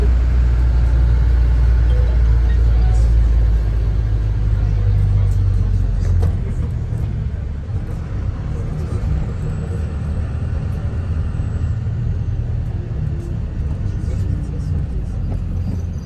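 Heard from inside, a bus climbs a mountain road with a steady, heavy low engine rumble that is strongest at the start and holds as a constant drone throughout.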